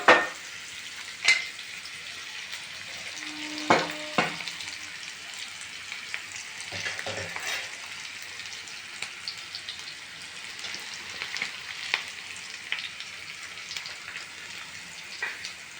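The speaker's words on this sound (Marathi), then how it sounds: "असं थोडंसं गोल्डन कलर येऊस तोपर्यंत आपल्याला कांद्याला भाजून घ्यायचं आहे चांगलं" Chopped onions sizzling in hot oil in a pan for an Indian spiced rice dish, a continuous crackling fry with scattered pops and occasional stirring scrapes and clinks, close up with no talking.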